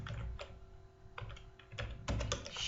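Computer keyboard keys are struck while a basic salary sheet is typed during a C/C++ programming lesson: a quiet, irregular run of clicks at close range with short pauses between bursts.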